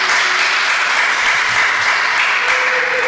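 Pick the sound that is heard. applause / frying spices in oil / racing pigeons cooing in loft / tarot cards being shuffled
applause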